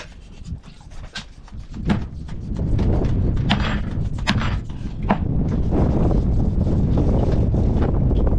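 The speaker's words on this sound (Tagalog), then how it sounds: "Grabe ang hangin mga bay." Strong wind gusting against a microphone outdoors, building from scattered thumps and knocks into a loud, continuous low roar that fills the last several seconds.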